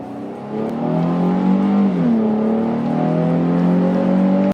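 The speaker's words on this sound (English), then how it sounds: "This car makes okay sounds." A Nissan 350Z sports car with its stock exhaust hums steadily as the engine pulls, rising in pitch and holding a smooth mid-range drone, heard from inside the cabin.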